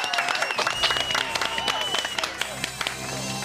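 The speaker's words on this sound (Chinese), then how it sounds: "掌声鼓励" Studio audience applause on a TV cooking show, dense clapping with crowd noise and a few cheers, mixed with voices talking over it.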